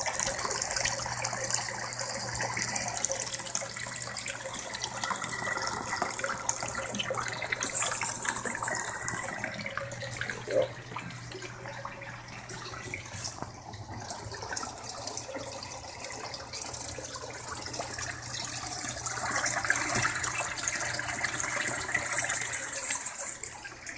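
Water pours and gushes steadily into an aquaponics tank for the whole stretch, a constant rushing flow with a faint low hum underneath.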